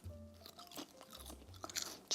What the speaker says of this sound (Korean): 정말 조미가 하나도 안 된 김인데 이렇게 바삭해요.